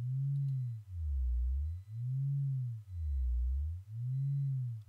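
A steady low test tone from two crossover drivers offset by half a cycle, swelling and dipping in a slow regular pulse about once per second, with a repeating gap where the signal drops away.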